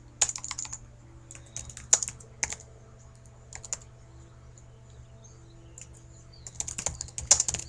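Someone types on a computer keyboard in short bursts of crisp, close clicking key presses separated by brief pauses, over a low steady hum.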